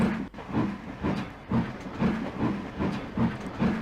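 A steam locomotive in Trainz pulls away, its exhaust chuffing in a regular, steadily paced rhythm of hissing beats that grows slightly quicker.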